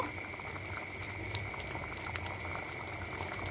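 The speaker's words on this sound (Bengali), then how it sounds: "আর একটু ফুটতে দেব। পুরো ফুটতে শুরু হয়ে গেছে।" Vegetarian chana dal cooked with coconut bubbles in a pot, a soft, even, continuous simmer with faint popping and nothing else over it.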